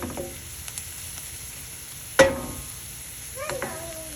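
An egg omelette mix sautés in a cast iron skillet with a quiet, continuous sizzle, broken by one sharp metallic knock midway and a few light utensil clinks near the end.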